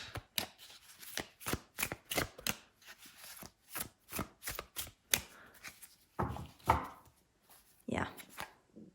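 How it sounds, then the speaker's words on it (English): Thick tarot cards shuffle in quick, distinct bursts of riffling and slapping, close and fairly quiet, in an uneven rhythm with short pauses between bursts and faint talk near the end. "I am able to shuffle them fine still."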